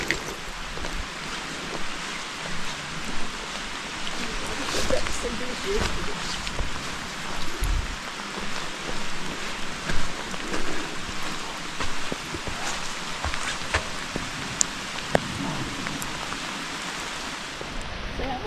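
Steady rain falling on a hiking trail in Linville Gorge, a dense, even hiss of drops with scattered louder patters, while people talk nearby.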